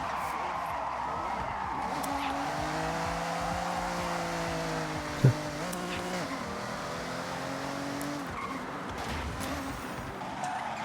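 A car drifts in the racing game Forza Horizon, with a sustained engine drone and sliding tire noise running under faint background talk, plus one sharp brief knock midway.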